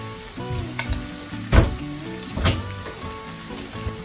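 Mutton karahi with yogurt fries in a pan, a bubbling sizzle with two louder splattering bursts and intermittent stirring knocks, heard alone without voices.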